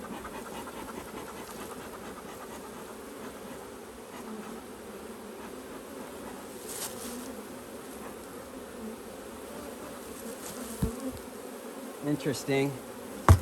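Honey bees from a spring swarm drone steadily close by, a dense continuous buzz filling the whole stretch, with a few louder bumps and a single brief spoken word near the end.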